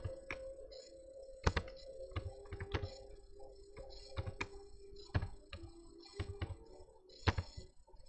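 Fingers typing code on a computer keyboard, irregular bursts of crisp clicks and key taps at close range, some louder strokes like the enter key, with no talking.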